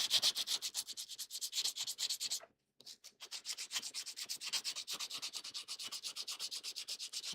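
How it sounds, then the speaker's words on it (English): Rhythmic scraping of sandpaper rubbing back and forth on the body of a 1982 Corvette under restoration, close and steady, with a brief pause partway through before the strokes resume. "I'm just going ahead and sanding it."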